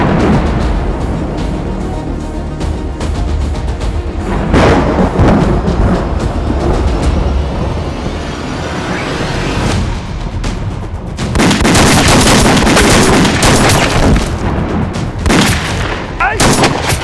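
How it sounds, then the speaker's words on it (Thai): Loud gunfire bursts and booming shots crack repeatedly in a Thai TV drama, dense and close, with heavier volleys toward the end. "ผมได้ยินเสียงปืน"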